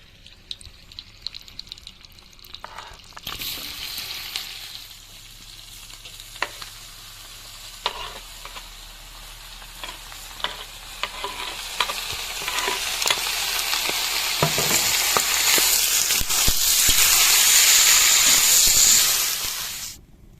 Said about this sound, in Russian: На сердцах есть жирок. Сейчас мы его вытопим.